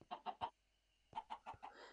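Minecraft chickens cluck in short bursts, a quick run of three clucks, a brief pause, then several more, clear and close with no talk over them.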